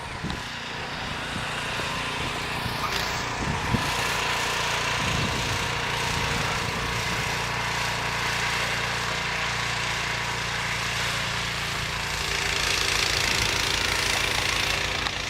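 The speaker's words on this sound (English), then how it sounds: "get my little garden tractor with a blade and see if I can get some of it" A small garden tractor engine fitted with a snow blade runs steadily through a snowstorm, a continuous mid-pitched drone with a rough knocking pulse, loud and close, with no talk over it.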